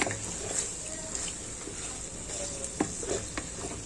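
Fish jhuri of bele fish fries in a pan with lemon leaves added, a soft steady sizzle with a few stirring scrapes and knocks.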